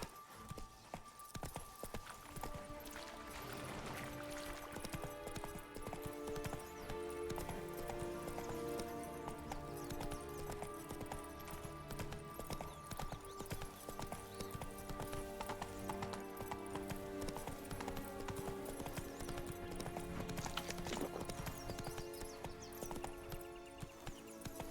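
Horse hooves gallop in The Witcher 3, a fast, steady clip-clop under game music, with an occasional whinny and moderate loudness throughout.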